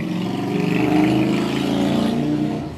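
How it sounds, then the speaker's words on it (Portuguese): A motorcycle passes by, its loud engine drone swelling and fading over about three seconds, heard alone with no speech. "Pronto, passou a moto."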